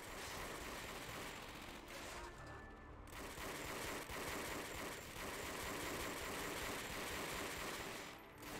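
Gunfire in the World War II shooter Call of Duty: Finest Hour, rapid bursts of shots in a busy, sustained battle din, faint overall with a few brief pauses.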